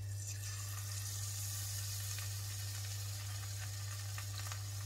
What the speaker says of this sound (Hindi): तो तेल यहाँ पर हो चुका है गरम, तो अब हम डालेंगे इसमें पनीर के क्यूब्स को